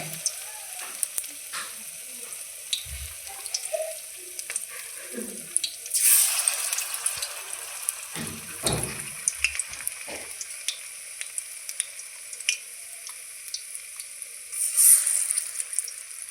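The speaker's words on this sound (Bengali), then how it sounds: "কড়াইয়ে দিয়ে দিয়েছি তেল গরম হয়ে গেছে। এখন আমি পকোড়া ছেড়ে দিব।" Mushroom pakoras frying in hot oil in a wok give a soft, continuous sizzle, with a few louder spits and clinks of stirring along the way.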